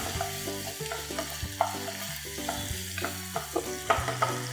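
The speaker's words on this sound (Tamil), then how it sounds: "இதெல்லாம் சேர்த்து அப்படி லைட்டாக கிளறி விட்டுக்கலாம்." Spoon stirring a tomato ketchup sauce for tiger prawn Manchurian as it sizzles and fries in a pan, with soft scraping strokes and brief clinks over steady sizzle under background music, no talking.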